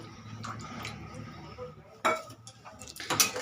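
A utensil scrapes and clinks against a pan while a poppy seed, mustard and green chilli paste is stirred, with soft intermittent knocks and a couple of sharper metallic clinks near the end.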